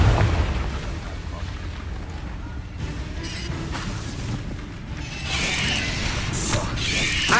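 A Confringo blasting spell goes off in Hogwarts Legacy, giving rumbling, booming bursts that swell louder toward the end amid game noise, with a voice calling out over them.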